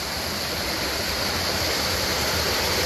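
Water flowing out of a rock quarry and along a channel, a steady broadband rush like a stream or small waterfall, close and constant throughout with no voices.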